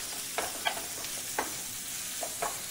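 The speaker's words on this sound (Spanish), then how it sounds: "volvemos otra vez a revolver" Spoon stirring pasta sauce with lobster tail in a pan, a few soft scraping strokes spaced out over a faint steady sizzle, close and fairly quiet.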